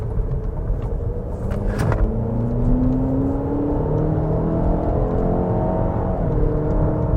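A 2024 Cadillac XT4 AWD Sport with a small engine and 9-speed transmission accelerates, heard from inside the cabin, a steady whirring rumble with rising tones as it climbs through gears.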